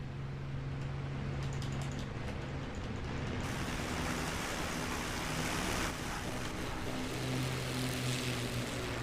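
A WWII propeller aircraft engine failing in the DCS flight simulator, a loud steady droning hum with a shifting tonal whine, continuous from start to end.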